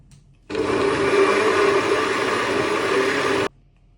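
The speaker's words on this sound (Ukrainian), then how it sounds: "Засипали персики творог і блендеруємо." A blender whirs loudly and steadily for about three seconds mixing peaches and curd cheese, starting and stopping abruptly, with near-silence before and after.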